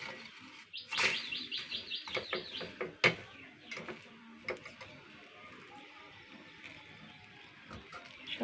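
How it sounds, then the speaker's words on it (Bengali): Several kinds of birds call in the morning near a home, bright chirps and twittering trills in uneven bursts, close and moderately loud, over quiet background sounds. "অনেক রকম পাখি ডাকে সকালবেলা।"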